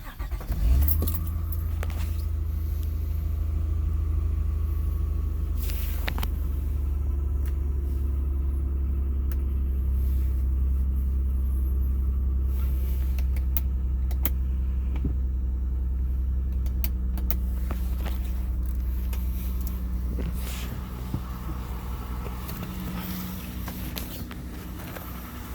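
A 2001 Honda Odyssey minivan starts from cold after a brief jingle of keys, then settles into a steady, low idle rumble that carries on alone for the rest of the clip.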